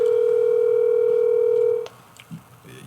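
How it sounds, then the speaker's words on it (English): A steady telephone dial tone drones loud and unbroken for nearly two seconds, then cuts off abruptly, leaving faint room noise and small clicks. "let's get Megan on the phone"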